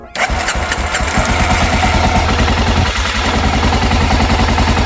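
A BMW F650 Funduro motorcycle engine cranks and catches abruptly, then settles into a loud, steady, close-up idle with an even thumping single-cylinder pulse.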